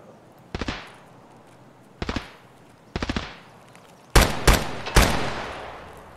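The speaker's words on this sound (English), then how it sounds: "I'll shoot the one out back" Video game gunfire at enemies during a Customs run near the dorms: three short bursts of rapid shots, then three louder, sharper volleys close by, each ringing out briefly.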